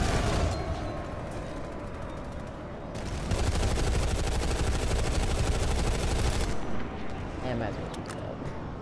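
Rapid automatic gunfire crackles in PlanetSide 2 as a dense, loud burst over several seconds, with booms and engine rumble around it and a voice talking over the action.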